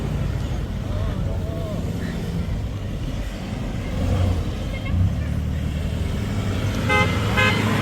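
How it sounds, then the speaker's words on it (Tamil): Car engines and traffic rumble steadily at a Jaffna wedding as vehicles circle a landed helicopter, with a horn toot near the end and voices talking over the continuous motor noise. "இங்கே பார்த்தீங்கன்னா கெளியை சுற்றி வாகனங்கள் வட்டம் போடுது"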